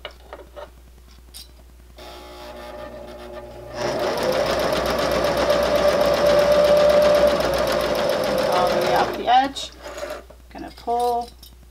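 A sewing machine stitches a narrow hem on a fabric grocery bag holder, running in one steady, close mechanical whir for several seconds after a few soft starts, followed by brief rustling and handling.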